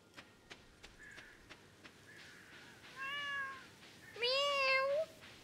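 A cat meows twice, a short mew followed by a louder, longer meow, after a few faint ticks in an otherwise quiet room.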